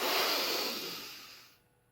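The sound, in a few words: storyteller imitating a giant sniffing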